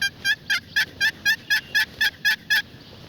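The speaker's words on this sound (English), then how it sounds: "the only thing he makes turkeys gobble so far off" A wild turkey gobbles in a fast series of about ten evenly spaced, clear calls that carry from some distance across open woods, with no talking.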